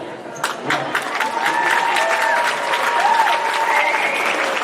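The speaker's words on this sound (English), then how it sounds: "Thank you for that applause." Steady audience applause fills a volleyball All-Star Game award presentation, a sustained crowd clapping at even loudness with faint tonal hum and a few voices mixed underneath.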